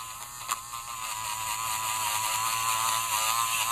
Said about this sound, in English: I'll just take this Dremel